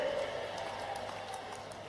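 A rally crowd applauds in a steady, moderately distant wash of clapping, with a faint tonal hum running underneath throughout.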